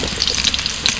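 Sliced carrot and potato pieces hitting hot oil in a pan give off a steady, dense, close sizzle that crackles brightly throughout, with no voices.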